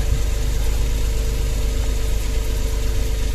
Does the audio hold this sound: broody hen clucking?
no